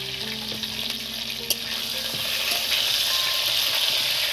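Pointed gourd frying in hot oil, a loud, continuous sizzle with a few light scrapes and a sharp tap, the hiss swelling slightly toward the end.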